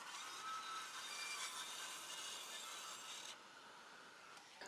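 A circular saw rips through a piece of timber clamped on a simple straight-cut jig, giving a steady, bright, close-up rasping whine that holds for several seconds before easing off near the end.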